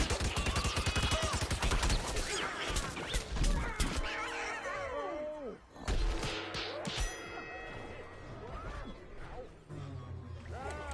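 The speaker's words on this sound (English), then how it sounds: "Little twin pistol, fire pistols. Sometimes I just like shooting those." Twin fire pistols blasting in Plants vs Zombies Garden Warfare 2, a rapid rattle of shots mixed with clangs and dings from the game, busy and loud throughout.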